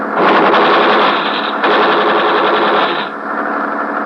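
Rapid automatic gunfire serves as a sound effect in a 1950 radio drama, a loud, continuous staccato burst lasting about three seconds before easing into a quieter rattling tail.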